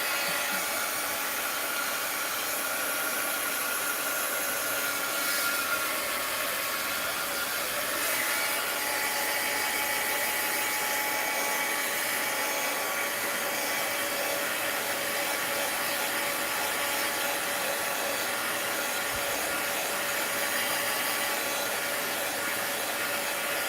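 A hair dryer blowing steadily on a junk journal page, a loud continuous whooshing hum that runs unbroken close up with no talking.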